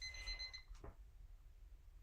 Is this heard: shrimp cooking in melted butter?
no